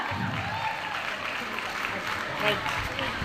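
An audience at an award ceremony claps steadily as an honoree comes forward, a broad wash of applause with a voice faintly mixed in underneath.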